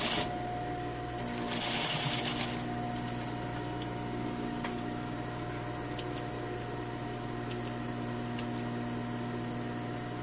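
A sewing machine runs steadily, stitching a tailored jacket sleeve seam, its continuous whirring hum close and even, with a few faint clicks and a brief rustle of fabric early on.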